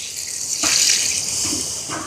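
Coconut milk pours into a cooking pot for a chicken curry, a brief splashing gush that starts abruptly and runs on for over a second before tapering.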